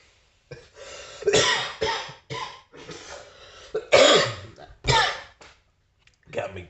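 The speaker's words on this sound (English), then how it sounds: "Got me coughing because I'm fucking laughing here." A man coughs in several short bursts while laughing, close and fairly loud, mixed with throaty laughter and breathy sounds, with brief pauses between the fits.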